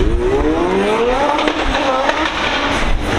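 Race cars at an import drag racing event roar steadily in the background, one engine pitch climbing as a car accelerates, a continuous loud mechanical wash with faint talk underneath.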